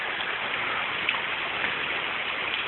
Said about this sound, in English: Just in case you haven't gotten enough of the rain,